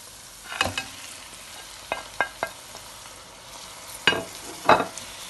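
Tomatoes are stirred into a sizzling biryani base in a pan, with a steady fry hiss and several distinct scraping stirs and clatters of the spoon, close and clear with no talking.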